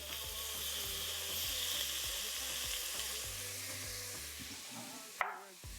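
Vegetables sauté in a pan for a ramen noodle soup, giving a steady close sizzle with a few stirring ticks. Soft tonal music plays underneath, and a brief clatter sounds near the end.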